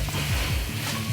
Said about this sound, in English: then I'll add in the coconut milk